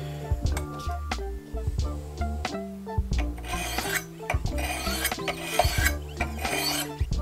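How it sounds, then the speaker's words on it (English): An S35VN steel fixed-blade knife is worked against a sharpener, producing close, repeated rasping strokes in an uneven rhythm that grow brighter and denser partway through, with no talking. "This one's gonna be a little bit harder to sharpen because it is S35VN"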